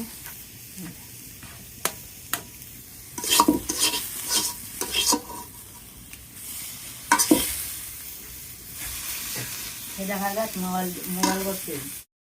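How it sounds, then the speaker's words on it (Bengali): Cooked leafy greens in a village kitchen in Bangladesh are stirred and scraped in a pan, with loud, irregular utensil clacks over a soft sizzle and a person talking briefly near the end. "আমার শাক হয়ে গেছে এখন নামিয়ে নিতেছি"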